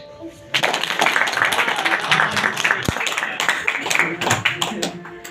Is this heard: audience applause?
yes